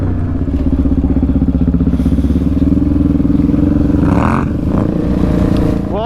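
Two quad bikes, a Yamaha Raptor 700 and a Can-Am Renegade 1000, drag race with a loud, throbbing engine drone that pulses steadily and shifts slightly in pitch as they pull, with no voices.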